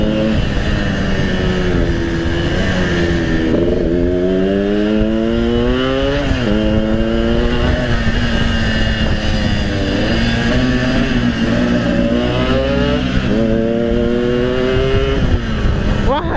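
A Yamaha RX King two-stroke motorcycle revs hard while being ridden, its engine note repeatedly rising and falling through gear changes. It stays loud and close throughout, with no talk over it.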